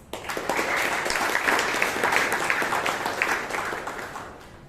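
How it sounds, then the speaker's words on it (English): A Toastmasters meeting audience in Bangalore breaks into a dense, steady round of applause welcoming guests, sustained for several seconds before tapering off at the end. "let us warmly welcome all our guests with a huge round of applause"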